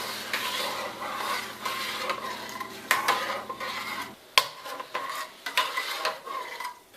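Continuous scraping and stirring of garlic and sauce ingredients for Thai chicken curry in a pan, metallic utensil sounds with a couple of sharp clinks, close by, with faint sizzling underneath.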